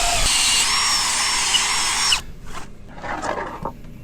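A power drill whines loudly and steadily as it bores a bolt hole through a wooden wall board, then cuts off abruptly, leaving a few softer knocks and shuffles of handling the board.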